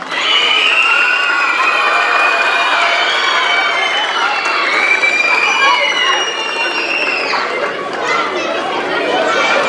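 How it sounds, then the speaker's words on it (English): Loud, continuous crowd noise at a sixth grade girls' awards celebration for a local league, with cheering, shouting and clapping sustained throughout and no single voice standing out. "A big round of applause."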